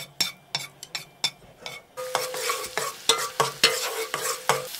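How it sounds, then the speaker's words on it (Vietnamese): Shallots and garlic frying in a tablespoon of oil in a pan: quick scraping stirs knock against the pan, then a louder sizzle rises under repeated rhythmic strokes of the utensil. "Cho vào chảo 1 muỗng canh dầu. Cho hành tỏi còn lại vào phi lên cho thơm."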